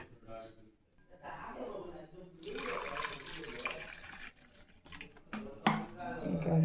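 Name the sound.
water being poured into a dish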